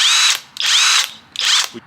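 A cordless 1/2-inch drive OLMLMO impact wrench rated to 800 ft-lb and run at high power fires three close, loud bursts of rapid hammering rattle, each separated by a short pause, with no talking.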